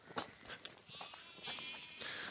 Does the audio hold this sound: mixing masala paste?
no